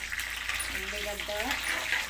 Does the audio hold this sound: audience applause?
no